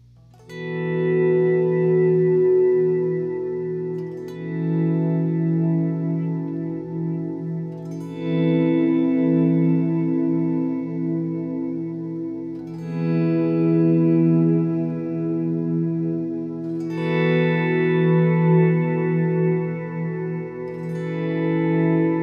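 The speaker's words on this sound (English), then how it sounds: "let's try how the timeline complements my bass sound to get a good swell" Sustained bass guitar tones swell in and out in long waves through a Strymon Timeline delay pedal, trailed by echoing repeats and a wash of reverb, with no voices.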